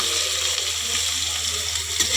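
Steady sizzling hiss of bitter gourd roasting in hot oil on a wood-fired stove, close and continuous, with no talking.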